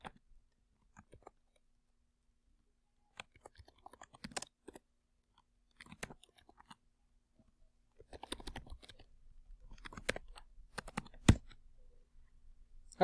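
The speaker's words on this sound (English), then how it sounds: "Just quickly type it in." A computer keyboard is typed on in sparse, soft bursts of clicks in a quiet room, starting hesitantly and growing into a quicker run of keystrokes near the end.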